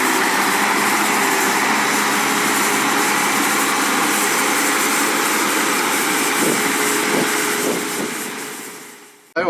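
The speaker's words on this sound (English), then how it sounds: "we do have a mechanical sweeper which is attached to the tractor, and that makes it a lot quicker" A tractor with a mechanical sweeper attached runs on a farm in a steady, loud mechanical drone that holds even throughout and then fades away at the very end, with no voices.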